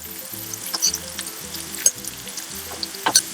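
Thinly cut capsicum pieces fry in a pan for a curry, with a bright close sizzle and crackle broken by several sharp clinks and scrapes of stirring, and nobody talking.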